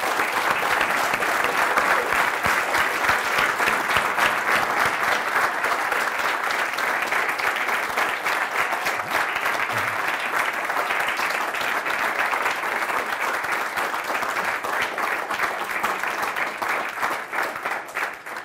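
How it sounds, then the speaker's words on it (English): Sustained, dense applause from a conference audience at a JavaScript talk, loud and steady for the full length, alone with no talk over it. "I want a big, huge round of applause for Chris and Laura."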